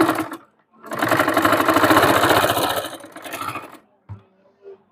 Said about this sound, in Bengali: তারপর সেলার ভিতরে হাফ ইঞ্চিতে আমি একটা সেলাই দিব এরকম করে সেলাই দিয়ে এটিকে ক্রস করে আনবো